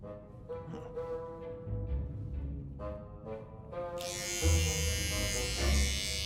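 An electric shaver switches on and buzzes loudly and steadily for the final couple of seconds, following a stretch of quieter background tones.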